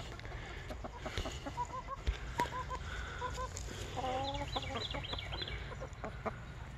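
Chickens cluck and squawk in short repeated bursts over a steady low hum, with a few brief clicks and bumps nearby.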